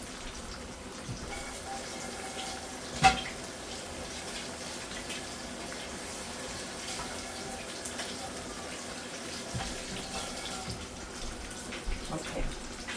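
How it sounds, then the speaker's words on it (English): Tap water runs steadily into a kitchen sink during handwashing, a soft continuous splash at moderate distance with one brief knock partway through. "I'm going to set that right there and wash my hands."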